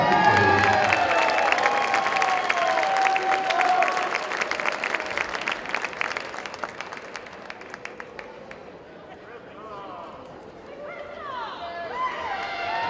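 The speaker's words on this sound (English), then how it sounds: "one more round of applause for this year's senior class" A crowd at a high school boys basketball game applauds the senior class, loud clapping and cheering that thins out over time, with sneaker squeaks and a voice on the public address underneath.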